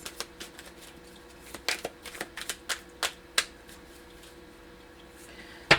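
Journaling cards being shuffled by hand, a run of quick, crisp riffling flicks and snaps in irregular bursts, close and fairly quiet, with no talking.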